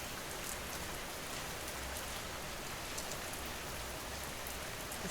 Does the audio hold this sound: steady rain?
yes